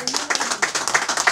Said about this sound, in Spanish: Qué bonito el aplauso